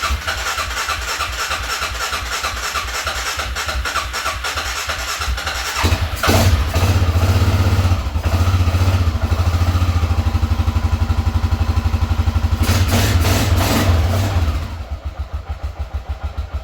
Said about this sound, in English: hit the old start button and see what she does